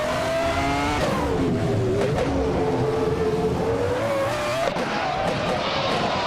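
A Footwork FA17 Formula 1 car racing, with its high-pitched engine whining steadily close by, the pitch dipping and climbing as it shifts and accelerates, and a brief sharp transient near the end.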